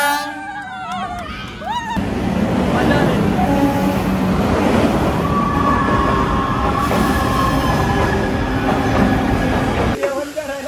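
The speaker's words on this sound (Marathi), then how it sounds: "आ गई ये ट्रेन, आगे की ट्रेन आ गई ट्रेन" A train rolls into a station on the way to Khopoli, loud and near, its wheels rumbling and clattering steadily with long metallic squeals for most of the stretch, a brief horn or whistle tone at the start.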